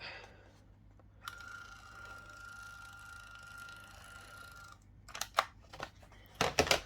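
A small machine whirs steadily with a sustained tone for several seconds, then stops, followed by a few sharp clicks and a brief ratcheting burst.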